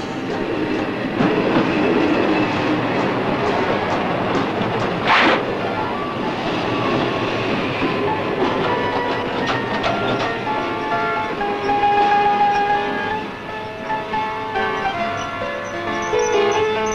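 A train sound effect from a comedy TV episode: a continuous rolling rumble with rhythmic clickety-clack of wheels on rails, fairly loud and steady, with no speech.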